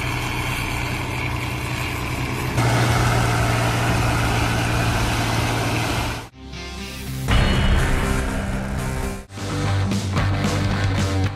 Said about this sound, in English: The machine shown is a herder verge and ditch maintenance system, mounted on a tractor and equipped with a suction mower head.